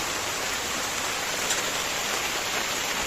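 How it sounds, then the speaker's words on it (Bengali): Steady, dense hiss of rain falling continuously, even and unbroken, with no voices. "বৃষ্টি সত্যি সত্যি চলে এসেছে"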